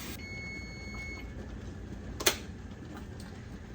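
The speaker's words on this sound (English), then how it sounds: "so that was my timer." A kitchen timer's faint electronic beeping repeats briefly at the start, then a single sharp click, all fairly quiet in a still room.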